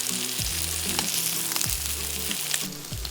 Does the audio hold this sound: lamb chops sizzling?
yes